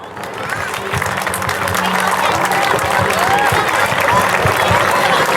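An audience applauds a girl after her long devotional Hindi poem recital. The clapping is dense and sustained, swelling slightly and holding steady, with crowd murmur and a voice mixed in.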